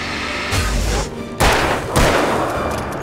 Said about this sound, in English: Why am I using the rifle? I'm wasting rifle ammo.